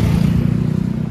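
A motorcycle engine rumbles close by in a narrow alley in Glodok's Chinatown, a loud throbbing idle-to-pass sound filling the short moment.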